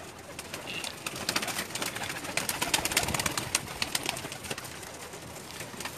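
Pigeons kept by a fancier, some as breeding pairs and most as flying birds, coo and flutter steadily throughout at moderate distance, with no voices over them.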